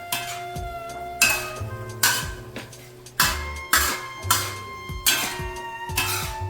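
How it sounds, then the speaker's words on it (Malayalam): Capsicum and onion being sautéed on a tawa for tawa pulao, with repeated metal utensil scrapes and clanks against the pan in an irregular rhythm, fairly loud and close, with no talk. "2 to 3 മിനിറ്റ് ലോ ഫ്ലെയിമിലിട്ട് ഒന്ന് സോട്ട് ചെയ്ത് കൊടുക്കാം"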